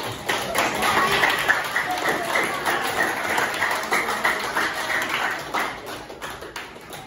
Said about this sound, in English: Strong clap for Ayhan.